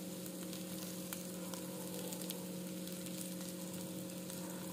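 Arbi (taro root) pieces shallow frying in a pan, with a faint, continuous crackling sizzle and a steady low hum underneath.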